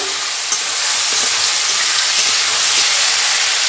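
Potatoes and tomato fry in a pan, giving off a loud, steady sizzle and hiss close by, with faint stirring scrapes and no talking.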